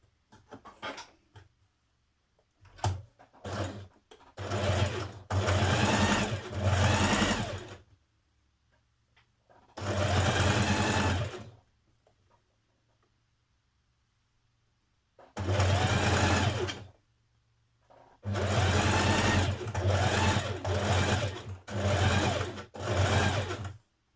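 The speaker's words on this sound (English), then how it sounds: "So I'm going to top stitch mine now at this point." A sewing machine top stitching a Simplicity 8384 dress runs in several separate bursts, some short and some several seconds long, with quiet pauses between them.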